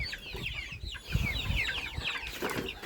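Young chickens peep and squeal in a busy, overlapping chorus, with clucking mixed in close by; no one speaks.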